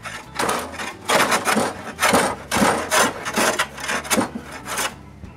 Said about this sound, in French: en m'appuyant sur un arbre, j'enlève les marques de scie